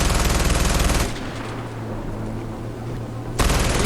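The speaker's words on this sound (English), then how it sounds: "Well, the shooting's gonna start a bit early." Dense automatic gunfire from soldiers in Far Cry 4, loud rapid rattling that drops away to a murky rumble of distant shots, then bursts back in at full intensity.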